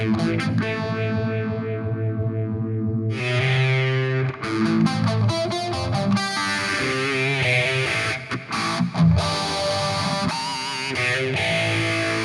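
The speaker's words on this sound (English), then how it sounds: "we're going to be using a phaser to do this" Distorted electric guitar chords washed in a slow sweeping phaser effect, the tone swirling up and down as the playing continues loudly without pause.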